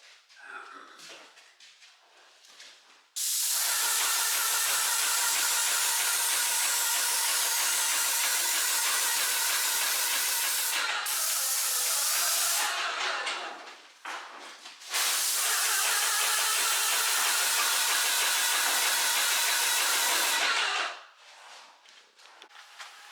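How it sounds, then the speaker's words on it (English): An indoor paint spraying machine hisses loudly in two long bursts, steady and close, with a brief pause between them and quiet stretches at the start and end. "I didn't want the mist from the spray paint getting on the lens of the camera"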